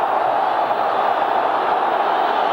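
A large Napoli football stadium crowd during a 1993-94 match against Juventus roars steadily, a dense, loud, sustained wall of cheering and urging with no breaks.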